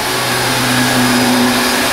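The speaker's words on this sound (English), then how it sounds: "And now we'll take the 8-pound Speedy Maid Fuller Brush vacuum." An 8-pound Fuller Brush Speedy Maid vacuum cleaner runs on sandy carpet, giving a loud, steady motor whine with a constant hum and airy rush throughout.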